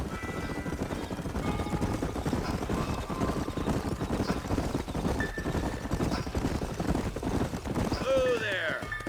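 Horses gallop in Red Dead Redemption, a steady drumming of hooves running continuously and fairly close, mixed with other game sounds and a brief high whistle near the end.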